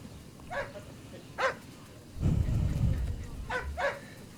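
Dogs barking in short bursts, two sharp barks early on and two more near the end, moderately distant, with a stretch of low rumbling noise between them.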